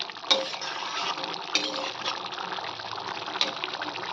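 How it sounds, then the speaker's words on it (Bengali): Aloo dum potato curry, made without onion or garlic and seasoned with a little garam masala, is stirred in a pan: a steady close scraping and swishing with a few sharp clinks. "ভালো করে নেড়ে"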